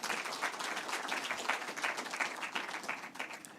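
An audience at a KenGen event applauds its ESG champions, a steady crowd of hands clapping in dense, even rhythm, moderately distant and without talk over it.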